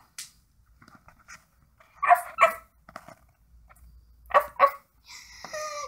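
A pet dog at a pets' competition gives a few short, sharp barks in two quick pairs, close and fairly loud, separated by quiet gaps with soft panting and a brief high whine at the end.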